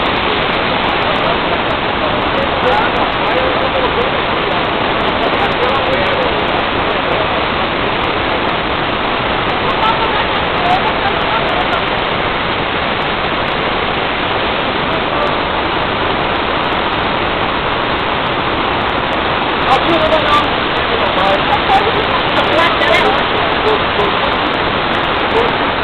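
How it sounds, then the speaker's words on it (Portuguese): Steady, dense roar of the Buracão waterfall crashing inside its canyon, a broad unbroken wash of falling water that stays loud and even throughout with no voices over it. "Cânion da Cachoeira do Buracão."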